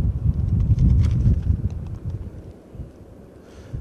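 Wind blows outdoors on a blustery day in Shenyang, a steady low rumble buffeting the microphone that eases off a little toward the end, with no voices.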